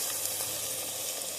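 Curd sizzling as it is added to hot oil in a pan, a steady bright crackle and hiss that runs evenly throughout at close range, with no voices.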